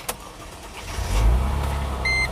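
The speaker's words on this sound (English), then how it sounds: "So it's about to start the engine and check the exhaust and see the smoke, the fume coming out from the exhaust." A car engine turns over and catches, settling into a steady low idle after a brief click, with a short electronic beep near the end.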